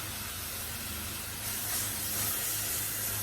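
Onion dropped into hot oil in a pan, a steady soft hiss of sizzling that swells a little partway through, with no one talking.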